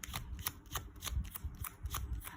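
Tarot cards are shuffled and drawn, making a quick run of faint, crisp riffling snaps in a fairly regular rhythm, with no talking.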